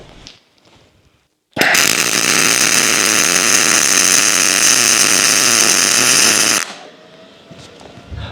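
Welding the steering knuckle stop screw onto an International Scout front axle makes a loud, close, continuous crackling buzz that holds steady for about five seconds, then cuts off abruptly, with quiet shop noise before and after.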